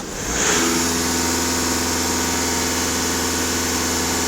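A Volkswagen Passat B6 engine idles steadily and close by, a smooth continuous hum with a faint whine above it, after a brief rise in level at the start. No one speaks.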